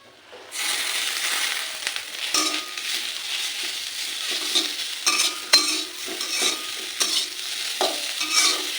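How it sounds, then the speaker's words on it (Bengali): A leaf lightly frying in oil, a close bright continuous sizzle that starts abruptly, with occasional spatula scrapes and clicks through it. "পাতাটাকে একটু আমি ভেজে নেব হালকা করে ভেজে নেবো"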